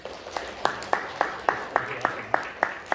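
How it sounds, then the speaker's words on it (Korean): Audience at a teacher training session claps in a steady rhythm, about ten evenly spaced group claps over three seconds with a soft crowd murmur underneath. "박수 주시고."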